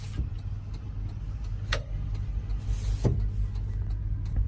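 Electric power window of a 2022 Tata Ace Gold CNG mini truck runs as a steady motor whine close by, joined by a couple of sharp clicks as the glass moves and stops.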